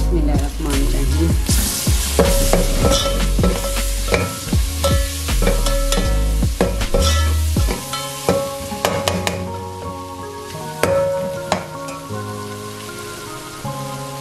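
Chopped tomatoes and finely cut green chilies hit a hot pan for a pulao, giving a steady loud sizzle with stirring clatter and bright spatter throughout, no voices.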